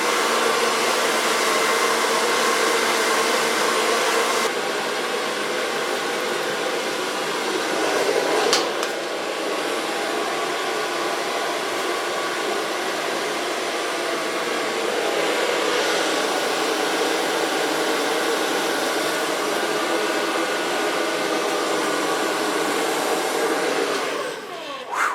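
Hair dryer blowing steadily and loudly for the whole stretch while hair is blow-dried soft, with slight shifts in airflow and a drop as it switches off at the end.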